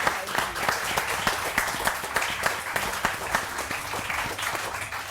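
A studio audience on a Pakistani morning television show applauds steadily and loudly for the full stretch, dense overlapping claps with no voices on top.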